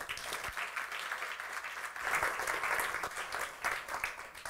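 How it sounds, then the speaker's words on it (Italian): Audience applause for a speaker named Alessandro at a business conference session, steady clapping filling the whole stretch and swelling slightly midway, with no speech over it. "Un applauso ad Alessandro."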